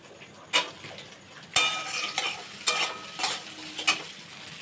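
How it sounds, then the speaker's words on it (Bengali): Capsicum fries in oil in a pan for fried rice, a continuous close sizzle broken by repeated sharp clinks and scrapes of a utensil stirring against the metal. "এই তেলের মধ্যে এবারে ক্যাপসিকামগুলো ভেজে নিচ্ছি।"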